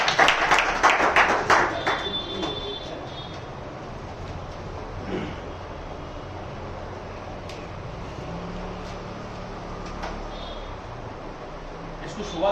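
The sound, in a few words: audience clapping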